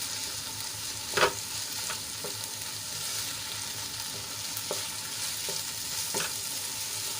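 Boiled fenugreek leaves tossed into a sizzling pan for a methi-papad curry, giving a continuous frying hiss with scattered spoon scrapes and knocks; one louder clatter stands out early, and no one talks.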